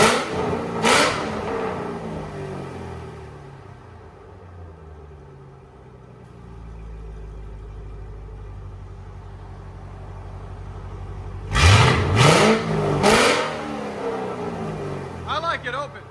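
A 2005-2009 Ford Mustang GT with a 4.6L V8 and open exhaust revs in short, loud bursts near the start and again later, with a steadier engine hum in between.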